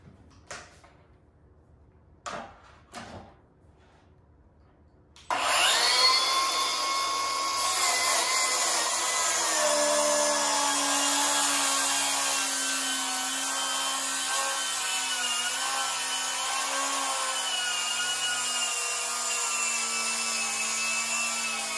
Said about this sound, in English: Opportunity to see how both saws cut.